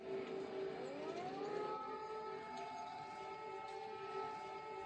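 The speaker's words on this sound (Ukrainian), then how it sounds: "Звуки повітряної тривоги харків'яни почули о 8 ранку." A distant air raid siren in Kharkiv, Ukraine, wails steadily, its tone rising and holding in a long sustained drone, faint and far away.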